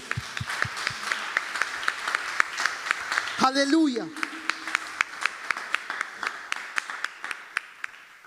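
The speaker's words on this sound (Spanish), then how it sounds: "Fuerte el aplauso al Señor" A church congregation applauds the Lord during a service, steady rhythmic clapping throughout with a brief shout of praise midway, moderately loud and reverberant, spoken voices mixed in.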